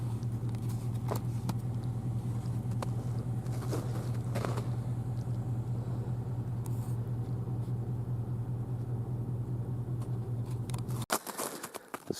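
A car drives up a slick, lightly snow-covered mountain road, its engine holding a steady low drone with faint tire crunch and patter over about eleven seconds before cutting off abruptly near the end.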